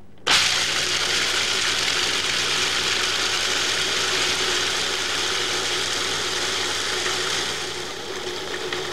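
A Cuisinart DLC 10 series food processor chops peanuts with its metal blade in a Lexan work bowl, starting abruptly into a loud, steady rattling racket that holds throughout before easing slightly at the end.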